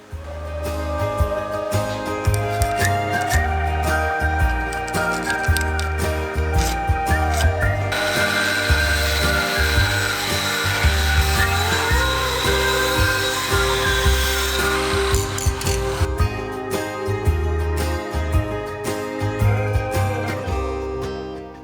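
Steel welding during a boat hull rebuild as a new steel piece is fitted into the hull, giving a continuous close, loud crackling and grinding texture with a brighter, harsher stretch through the middle.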